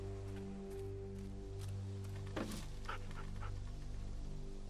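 A dog in The Walking Dead (Telltale) season 2 gives short whimpering yips and a bark over a steady droning musical background, fairly close and moderate in volume.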